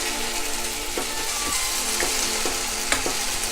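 Tomatoes mashed in a frying pan for a Malabar egg curry, a steady sizzle of frying under a few soft scraping and pressing taps of a spoon, close and continuous with no talk.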